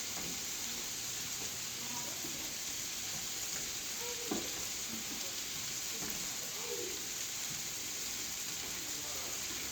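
Squash searing in a hot pan on a turned-up burner with butter, a steady crackling sizzle running throughout at an even, close level, with a few faint clinks and stirring movements.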